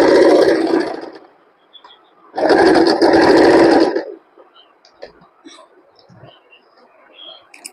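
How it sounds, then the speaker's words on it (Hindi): Sewing machine double-stitching the pleats of a four-tuck belt blouse, heard as two loud, close bursts of rapid whirring stitching, the second longer, followed by quiet handling clicks. "डबल स्टिच देके इसको पक्का करेंगे।"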